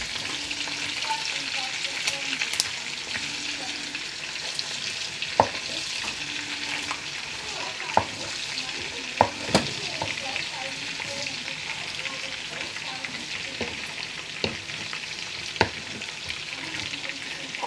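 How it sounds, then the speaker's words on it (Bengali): Shrimp lightly frying on one side in a pan and then being flipped give a steady, close, dense sizzle, with occasional sharp clicks from the turning utensil and no talk. "চিংড়ি মাছগুলো এক সাইড, বেশি ভাজতে হবে না, জাস্ট হালকা ভাজলেই হবে।"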